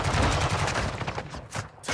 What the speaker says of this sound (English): Taking effective fire!